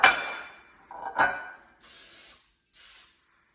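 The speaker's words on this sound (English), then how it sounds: "you just want to spray it so this doesn't stick" Two short bursts of cooking spray hissing near the mic into a pot, following some clinking and handling sounds at the start.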